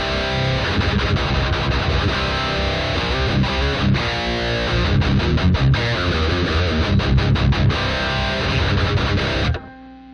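Electric guitar through a Mesa Mark IIc Plus amp paired with a Roland JC 2x12 cabinet on a Headrush MX5, playing dense, heavily distorted chugging riffs loud and continuous before cutting off abruptly.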